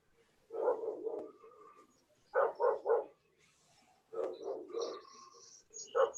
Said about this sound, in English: Is that Mia barking or?